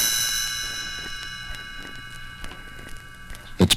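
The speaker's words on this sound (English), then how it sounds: "You will know it is time to turn the page when you hear the chimes ring like this" Bell-like chimes ring out as a page-turn signal, a sustained shimmering tone that rings steadily and fades over a few seconds, followed by a couple of soft thumps at the end.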